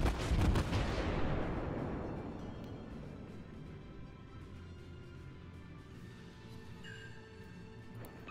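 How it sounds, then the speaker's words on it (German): The German heavy cruiser Admiral Hipper fires a heavy naval gun salvo in World of Warships, a deep booming blast that opens loudly and rolls away into a long fading rumble. "ich schließe mich dem an und schieße da jetzt noch ein bisschen drauf"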